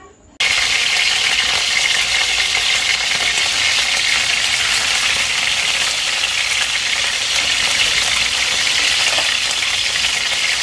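Chicken in a creamy mushroom sauce thickened with flour and water fries in a pan with butter, bursting into a loud, steady sizzle after a brief quiet start and crackling on without a break.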